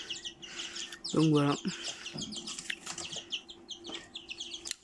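Young Ardennes chicks chirp in quick, high cheeps close by, with a brief louder trilling call in the middle, while a person speaks a few words.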